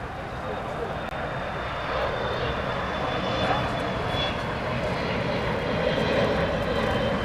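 Delta Boeing 737-800 airliner in SkyTeam livery at LAX, a steady, fairly loud engine roar sustained throughout, with a voice talking over it.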